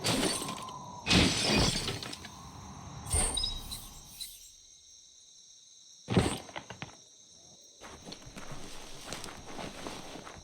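Box smashed in the video game Biomutant, several sharp crashing impacts with breaking, shattering debris, separated by quieter gaps and light movement sounds, fairly faint overall.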